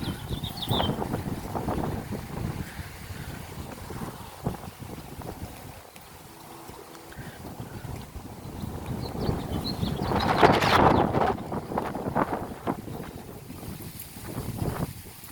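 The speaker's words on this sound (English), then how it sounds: "And the wind is picking up." Strong wind ahead of Hurricane Douglas in July 2020 gusts against the microphone outdoors, with rushing bursts and a swell that grows louder toward the end.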